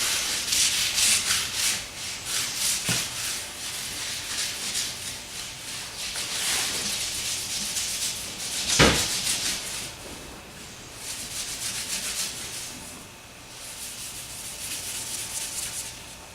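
Wet scrubbing of a Martini-Henry Mk IV rifle's action and barrel with a Brillo pad and Simple Green, a steady close-up rasping rub in back-and-forth strokes, with a sharp knock near the middle.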